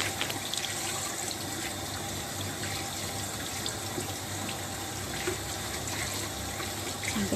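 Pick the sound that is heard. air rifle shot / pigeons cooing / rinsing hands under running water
rinsing hands under running water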